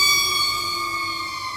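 A loud, steady, multi-toned siren blares close by on an ambulance, fading slightly over a short moment with no talk.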